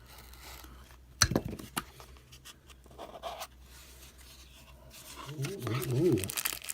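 Gift packaging from Slick Slicers is cut open up close: one sharp snap, then scraping and crinkly rustling, with a voice speaking briefly near the end.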